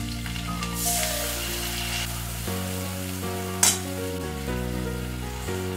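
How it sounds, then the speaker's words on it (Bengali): Capsicum frying in a pan for a Bengali hilsa fish curry, a steady close sizzle running throughout with stirring scrapes and one sharp clatter near the middle, over a continuous low background tone, with no talking. "ক্যাপসিকামগুলো দিয়ে ভেজে নিচ্ছি।"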